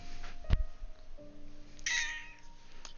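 A house cat indoors gives one drawn-out, rising meow partway through, set among a few sharp knocks and thumps nearby. No one speaks.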